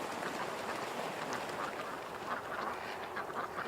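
Ducks quacking in a sudden freak out, a dense burst of overlapping agitated quacks over steady background noise, intensifying toward the end.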